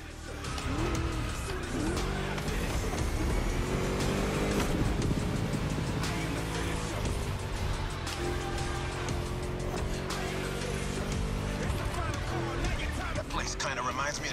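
A race car in The Crew Motorfest video game accelerates hard, its engine roaring loudly and continuously at high revs with bursts of tire squeal, close and unbroken.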